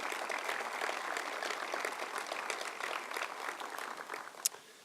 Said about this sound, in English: Let's give a round of applause for all those folks.